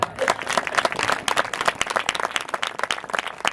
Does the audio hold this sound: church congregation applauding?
yes